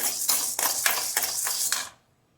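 Dry chana dal is stirred in a pan without oil while roasting for paruppu podi, making rhythmic, rattling scrapes of hard lentils against metal, about six close strokes that stop suddenly into silence.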